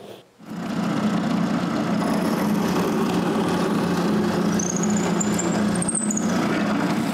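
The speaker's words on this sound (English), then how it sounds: "trace a half circle, and drill a hole in the center." Power drill boring a hole through the center of two wooden pieces stuck together, a steady close, continuous motor whine and grind running throughout after a brief pause at the start.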